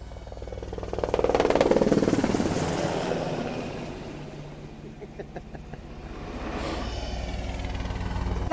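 A Black Hawk helicopter of a coastal border patrol flies past: loud rotor chop and turbine roar swell, fade somewhat, then build again, with a rhythmic blade thump audible throughout.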